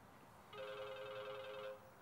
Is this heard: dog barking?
no